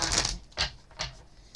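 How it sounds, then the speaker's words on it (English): A deck of oracle cards is shuffled up close. It gives three quick papery riffles and slaps, each a short burst separated by brief gaps, with no voice over them. "So let's go ahead, shuffle up the cards."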